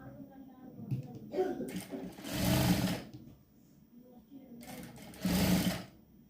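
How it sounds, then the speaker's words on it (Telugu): Sewing machine stitching a blouse seam in two bursts of fast whirring, close and fairly loud, with someone talking before and between the runs. "ఈ పై వైపున పావించి వెడల్పుతో ఒక స్టిచ్చింగ్ అనేది వేసుకోవాలి"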